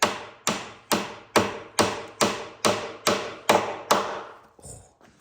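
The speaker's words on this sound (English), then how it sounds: "So tapping that up to give it a bit of pressure, tap on the top of the door" Ten evenly spaced, sharp knocks from a mallet tapping the top of a wooden front door to close a tenon joint during glue-up, each blow ringing briefly before the next, followed by a softer clatter at the end.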